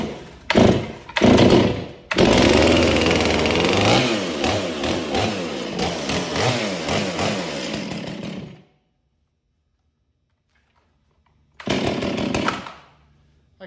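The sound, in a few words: Stihl MS 461 chainsaw engine starting and running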